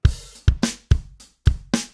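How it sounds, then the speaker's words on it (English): Short pattern from the UJAM Neon virtual drummer's tight kit, punchy kicks and crisp, bright snare hits alternating in a steady groove, dry and close, no voices. "Let's hear the tight kit"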